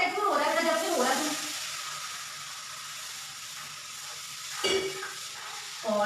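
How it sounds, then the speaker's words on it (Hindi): Hot tempering (chhaunk) for kadhi crackles and sizzles loudly in a pan at first, then fades to a low hiss, with brief bursts of stirring or clattering near the end. "मैंने सोचा जैसे ही छौंक लग गया है तो मैं इसमें फटाफट छौंक लगाती हूँ"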